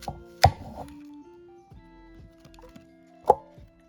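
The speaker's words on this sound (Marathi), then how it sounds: "मी आता ॲपल कट करून घेते" A knife cuts through an apple for a fruit salad, two sharp chops on a board a few seconds apart, each with a brief crisp crunch in an otherwise quiet room.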